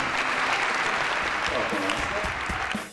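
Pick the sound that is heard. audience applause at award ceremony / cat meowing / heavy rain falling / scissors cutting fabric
audience applause at award ceremony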